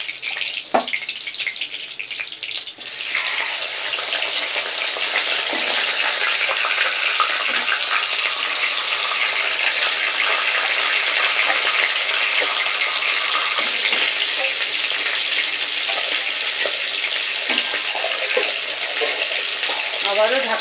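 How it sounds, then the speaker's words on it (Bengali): Pieces of katla fish head frying in hot oil until reddish. A loud, dense sizzle starts abruptly after a brief quieter opening and then continues close and steady with little change. "এইভাবে আরও যে টুকরোগুলো রয়েছে সমস্ত টুকরোগুলো এরকম একটু লালচে করে ভেজে নেব"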